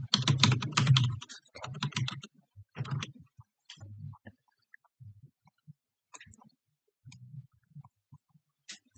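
Typing on a computer keyboard, close-up and crisp: a dense flurry of key clicks at first, then sparse scattered taps and pauses.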